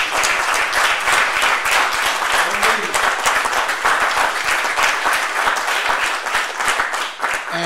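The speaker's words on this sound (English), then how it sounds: "give them a round of applause" An audience at a tribute event breaks into sustained applause, dense steady clapping filling the room loudly from start to finish.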